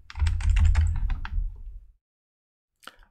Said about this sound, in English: So let me clear the screen and now type something.